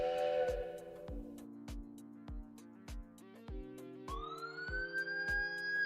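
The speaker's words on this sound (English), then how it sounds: "Look, it's the same police siren" A wailing police siren sound effect rises and falls over a steady beat of low thumps, with a sliding upward sweep near the end.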